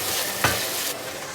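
Food browns in a pan inside a backyard wood-fired pizza oven, giving a steady close sizzle and hiss with one brief louder crackle partway through.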